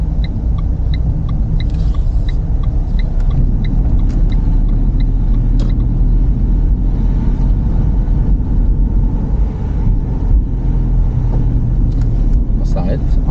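A manual car driven by a learner turns at an intersection and shifts through the gears, giving a steady low engine and cabin rumble throughout, with faint regular ticking above it and a voice talking now and then.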